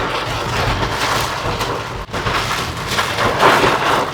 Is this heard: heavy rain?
yes